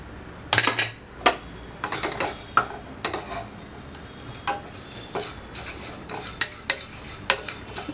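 Cumin seeds being stirred as they dry roast for rasam powder spices, giving repeated sharp scraping and clinking strokes of a spoon against a pan in an irregular rhythm, close and fairly loud, with no voices.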